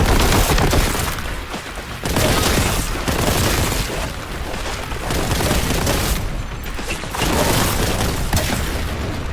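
Repeated heavy blasts and gunfire in the video game Warhammer 40K Boltgun, shotgun shots booming loud and close in a dense, chaotic barrage with brief dips between bursts.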